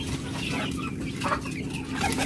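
Chickens cluck and chicks peep in a busy, overlapping jumble close by.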